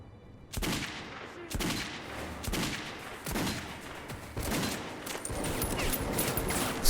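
Bursts of gunfire from the video game Metro 2033, a series of sharp, loud shots at irregular intervals of roughly one second, with a rising background din toward the end.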